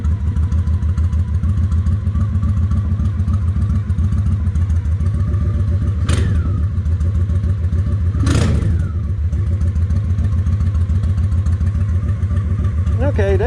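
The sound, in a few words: Honda 750 Ace motorcycle engine idling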